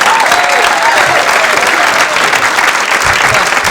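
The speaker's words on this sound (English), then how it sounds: "Please, a nice round of applause, Mr. Brian Kiley" A comedy club audience applauds as comedian Brian Kiley is introduced. The clapping is loud, dense and sustained across the whole stretch, with light crowd noise mixed in.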